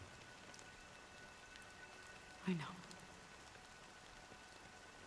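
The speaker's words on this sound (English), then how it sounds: "But it's still raining." Steady rainfall in the video game Honkai: Star Rail, a soft, continuous hiss under a brief spoken line.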